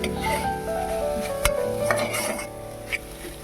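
Beetroot palya with fresh coriander leaves sautés in a pan while a spoon stirs it, giving a soft continuous sizzle marked by a few sharp scrapes and clinks against the metal, close up with no talking.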